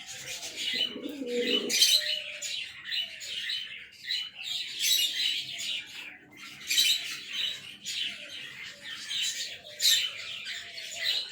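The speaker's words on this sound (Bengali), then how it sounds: "খুবই শান্ত স্বভাবের কবুতর" Lakha pigeons coo softly in repeated low, throaty calls, with light chirps and rustling around them and no talking.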